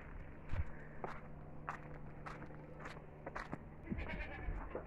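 Rams and goats in a farm barn give bleats amid shuffling hooves and rustling, fairly close and quiet, with irregular movement noises and no talking.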